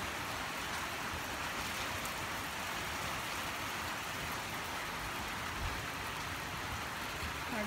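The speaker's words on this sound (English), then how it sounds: "Ah, it's starting to rain." Rain begins falling at an evening campfire, a steady, even hiss of drops that stays constant throughout with no voices.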